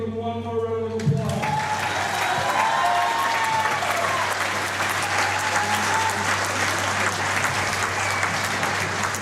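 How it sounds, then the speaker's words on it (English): A gym crowd claps steadily for the seniors on senior night at a Ludington vs Montague game. A brief voice comes first, then loud, dense applause fills the room and holds evenly to the end. "Give them one more round of applause."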